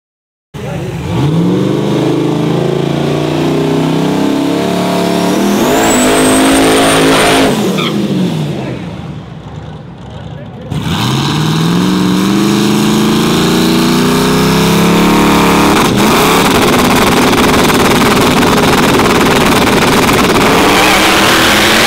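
Drag race cars launch at a no prep race, a loud roaring engine climbing through gear changes, a brief dip, then another car screaming past at full throttle close by.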